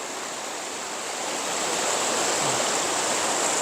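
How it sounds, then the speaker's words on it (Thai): Steady, broad rushing of water at the Kaeng Pla Kaeo waterfall, a constant hiss-like roar that swells slightly, close and unbroken with no voices. "เป็นน้ำตกนี่สวยสวย สวย อีดีเนาะ"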